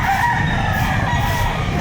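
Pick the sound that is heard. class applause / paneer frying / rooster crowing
rooster crowing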